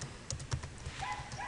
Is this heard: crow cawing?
no